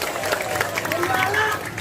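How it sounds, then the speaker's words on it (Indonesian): An audience applauds at a Sundanese-language religious lecture given by a preacher in Indonesia, a dense, steady wash of clapping with mixed crowd voices that holds at an even level throughout. "berikan tepuk tangan untuk bangsa kita Indonesia"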